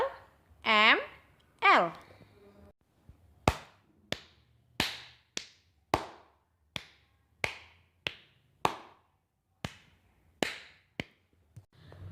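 Sharp, close single hand claps in a spaced rhythm pattern, about a dozen crisp claps with short gaps, following two brief spoken syllables.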